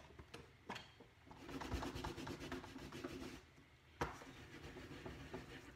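Rubber stamps scrubbed clean on a Stampin' Scrub pad, a soft, quiet rubbing and rasping in uneven back-and-forth strokes with a couple of sharp taps, no talking.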